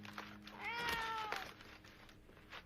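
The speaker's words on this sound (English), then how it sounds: "But you mean you brought a cat with you?" A cat meows once, a clear drawn-out mew with a rising then falling pitch, fairly close and quiet over soft background noise.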